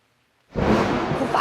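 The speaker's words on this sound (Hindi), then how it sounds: "बारिश।" Rain from a storm bursts in suddenly as a window is opened, a loud, steady broadband wash starting after a brief silence and holding on close with no voices.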